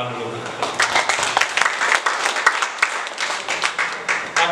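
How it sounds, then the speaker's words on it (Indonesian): An audience claps during a formal visit by the Sultan of Deli, a dense, steady patter of many hands lasting the whole stretch at even loudness. "Baik, tepuk tangan dulu."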